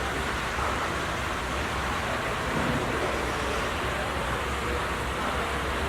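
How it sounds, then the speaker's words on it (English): A small waterfall at an art museum in Washington DC gives a steady, full rush of splashing water. It holds an even level throughout, with no talking. "This is really neat little waterfall."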